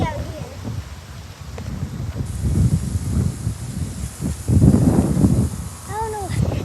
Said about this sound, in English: can you hear that wind? Everything is going crazy out here.